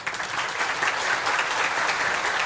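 An audience applauds at an international academic seminar at a Brazilian university, steady close clapping that stays even and dense throughout.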